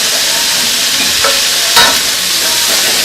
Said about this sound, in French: je vais ajouter tout de suite aussi mes champignons pour les faire un petit peu suer